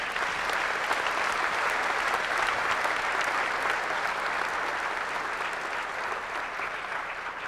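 An audience at a spring commencement claps steadily and evenly, a dense, sustained round of applause that eases slightly toward the end.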